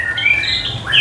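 A white-rumped shama, or murai batu, sings close by in a continuous run of bright, high whistled notes that ends in a louder rising phrase. The songbird is a competition prospect for sale in Jakarta.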